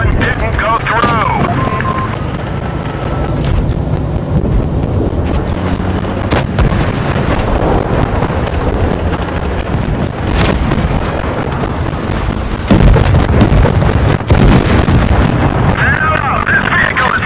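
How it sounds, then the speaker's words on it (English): Several heavy booms and blasts of tank explosions in a video game break through a dense, rumbling wash of noise, with speech mixed in and a louder stretch toward the end. "That was three explosions in a row."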